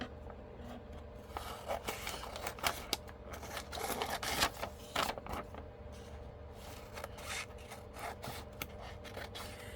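Scissors snip and rustle through a magazine page while cutting out a picture for a mini collage, a run of faint, close, uneven crisp cuts and paper rubs with no talking.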